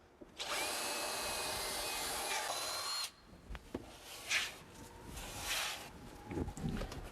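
A power drill whirs steadily for a few seconds drilling into solid fiberglass resin, then stops, followed by scraping and handling noises.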